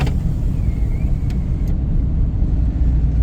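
A truck's exhaust with two mufflers drones with a steady, deep rumble while cruising, loud and constant with no pauses.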